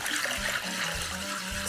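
Water is poured steadily into a bowl of kadhi batter made with gram flour while it is whisked, giving a continuous close splashing and trickling rush with faint clinks.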